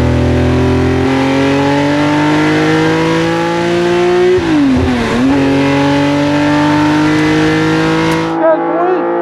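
A Porsche 910 race car engine hums steadily, then its pitch rises and dips as it revs hard, loud and close, cutting off near the end.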